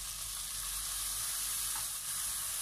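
Bitter gourd frying in a pan with soybean paste and light soy sauce, giving a dense, steady sizzle that stays loud and even throughout, close up with no talk.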